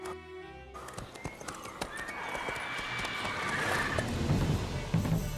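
The horse Roach in the video game The Witcher 3 whinnies briefly, then rapid clip-clopping gallop hoofbeats build and carry on steadily, fairly close, over outdoor game ambience.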